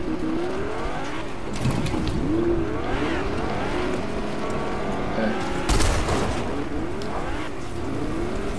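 Car driving in the Fortnite video game, a steady engine drone with rising and falling revs as it accelerates and shifts, one sharp bang midway, players faintly talking underneath.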